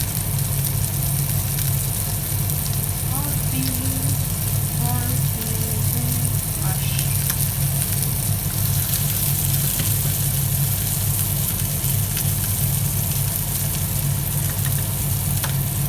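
Beef burger patties sizzle steadily in a hot pan, with a dense continuous frying hiss under a constant low hum and occasional faint voices.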